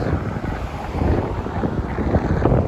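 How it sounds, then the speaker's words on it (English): Strong wind in New York City at night after a major rainstorm blasts across the mic in a loud, unbroken roar, with rough low-end buffeting that swells toward the end. "The wind is crazy."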